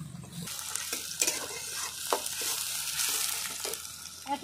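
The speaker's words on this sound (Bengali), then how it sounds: "একটা তেজপাতা, কেটে নিয়েছি দুটো পেঁয়াজ কুচি করে নিয়েছি, দিয়ে দেবো তেলের উপরে। পেঁয়াজটা ভালো করে লাল করে নেব।" Two chopped onions and a bay leaf fry in hot oil, a continuous close sizzle with frequent spoon stirs and scrapes against the pan.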